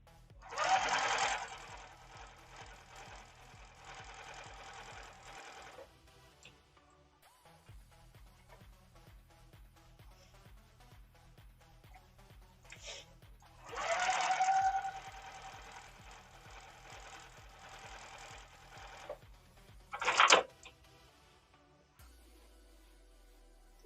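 A sewing machine stitches half-square triangle quilt pieces in three separate runs of steady mechanical whirring, with pauses and quieter rustling between runs, fairly soft overall.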